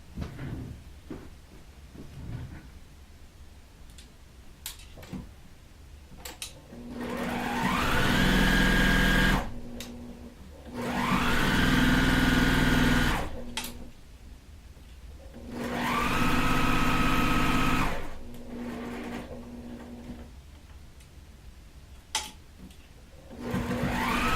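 A sewing machine stitches a quilt block for a beginner flower pot pattern in three sustained motor runs of about two to three seconds each, separated by quiet pauses, loud and close with no talking.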